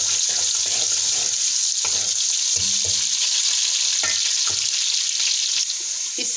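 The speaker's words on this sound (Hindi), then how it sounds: "अब इसमें करेंगे हम थोड़ा प्याज डालेंगे फ्राई होने के लिए" Chopped onions sizzle and fry steadily in a hot pan for a curry pakora dish, with bursts of stirring and utensil scrapes over the constant crackle; no talking.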